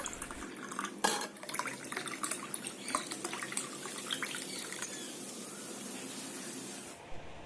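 Wood apple and jaggery juice pours and splashes into a glass in a thin, steady stream, with a few soft drips and clinks, fairly quiet and close.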